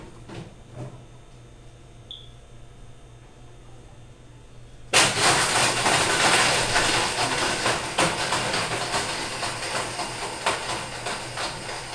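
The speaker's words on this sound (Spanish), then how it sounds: "Vamos a moler ahorita lo que viene siendo nuestro caramelo para que llevarlo a la batidora" Caramel is ground in a food grinder, a loud continuous whirring grind starting abruptly after a few seconds of quiet room tone and holding steady to the end.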